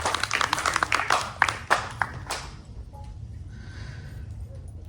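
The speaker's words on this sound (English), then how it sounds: "Please give yourselves a round of applause" Devotees at a Kalasha Yatra welcoming Ganapati Baba giving themselves a round of applause; a burst of scattered clapping fades out after about two seconds, leaving a low room murmur.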